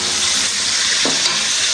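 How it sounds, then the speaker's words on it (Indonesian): Squid frying in a home kitchen pan gives off a loud, continuous sizzle close up, with a faint stir or scrape partway through. "Kita mau goreng si cumai"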